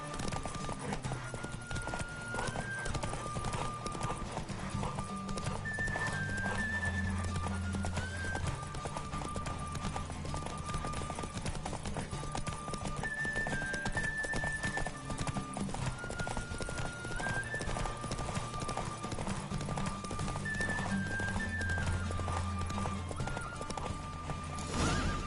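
Fast clip-clop of galloping hooves during a horse race in a video game, with a few neighs and whinnies breaking through a dense, continuous bed of game music and ambience.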